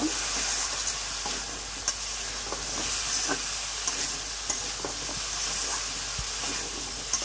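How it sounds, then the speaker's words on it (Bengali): Chili powder and spices stirred in hot oil for koi fish curry, a loud continuous sizzle and hiss broken by repeated scraping strokes of the spoon, no talk. "এবার ভালো করে নাড়াচাড়া করে মিশিয়ে নেব।"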